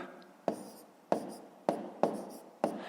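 Numbers written by hand with a pen during a school maths exercise, five sharp scratchy strokes at roughly half-second intervals, close and fairly quiet, with no talk.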